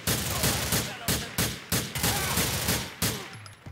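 Gunfire in Grand Theft Auto 4, loud sharp shots fired close in a quick uneven string, about nine or ten cracks over a few seconds, each with a short decaying tail.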